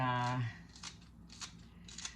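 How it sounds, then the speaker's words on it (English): Several crisp snips of scissors cutting green onion, spaced about half a second apart, following a brief spoken voice at the start. "I just use my scissors. It makes it easy to cut it."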